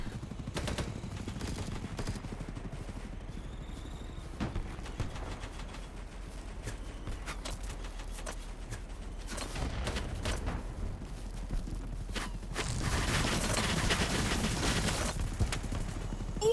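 Rapid bursts of gunfire in a first-person shooter game, crackling shots and volleys running continuously over a dense background of combat noise, growing heavier and louder toward the end.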